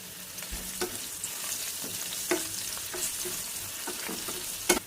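Onion tossed into hot oil after crushed garlic, frying with a constant close sizzle while a spatula stirs and scrapes the pan in irregular knocks, one sharp clack near the end.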